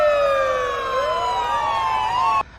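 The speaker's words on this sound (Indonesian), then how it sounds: "perhatiannya teralih pada sirene polisi dan ambulans yang melintas di dekatnya" Police car and ambulance sirens wail loudly as the vehicles pass close by, their overlapping tones sliding and shifting in pitch for over two seconds before cutting off abruptly.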